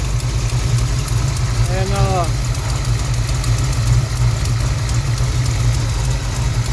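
Factory big block 454 V8 in a 1971 Chevrolet Cheyenne idles steadily and close up, a deep even rumble with a ticking exhaust leak, while a voice speaks briefly over it.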